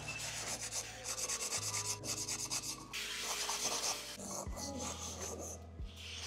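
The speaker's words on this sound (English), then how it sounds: "once you're done with the sanding everywhere" Steady abrasive rubbing of sandpaper over a hard clay piece, continuous and close, with a low hum underneath and no talking.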